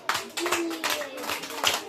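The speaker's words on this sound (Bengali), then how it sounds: "হামিমের জন্য একটা হাততালি দিয়ে দাও" Young play-class children clapping together for a classmate named Hamim, a few uneven bursts of hand claps at close range with a voice over them.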